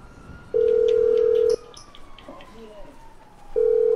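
Phone call dialing in Grand Theft Auto V, a steady synthetic tone lasting about a second, then a pause with faint background sounds, then the tone returns, fairly loud and up close.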